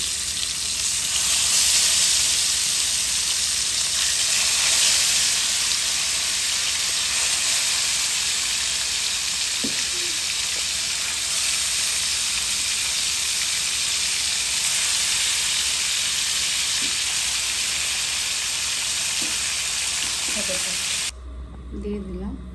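Poa fish frying in hot oil, a loud continuous hiss and sizzle filling the whole stretch with a few soft clinks, cutting off abruptly near the end.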